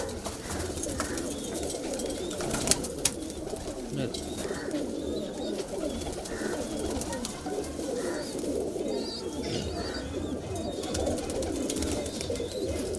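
Kalpare high-flyer pigeons coo continuously inside a loft in Patna, a dense, close chorus of soft throaty calls running throughout, with someone speaking over them.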